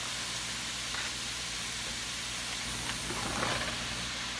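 A pound of mushrooms hits a pan of sautéing onions, giving a steady, broad sizzle and hiss that runs evenly throughout, close up and with no talking.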